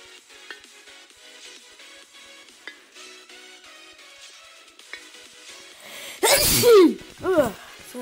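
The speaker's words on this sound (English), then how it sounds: "Sorry about that sneeze" A single loud, sharp sneeze near the end, followed by a brief breathy exhale, after quiet background sound.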